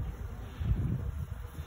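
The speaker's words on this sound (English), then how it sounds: "there's a bunch of bees in there" A clustering swarm of honey bees buzzing on a cold, windy April spring day, a low close hum with wind noise over the microphone.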